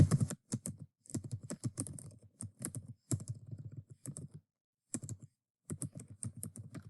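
Text is typed on a computer keyboard in quick, irregular bursts of close, crisp key clicks separated by short pauses.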